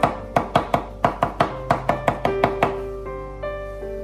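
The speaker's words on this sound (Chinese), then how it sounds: "将大蒜拍碎，拍碎之后再改刀将大蒜切成蒜末" A knife smashes and minces garlic cloves on a cutting board with a run of about fourteen sharp, evenly spaced chops. After the chopping stops, a quieter ringing tone lingers.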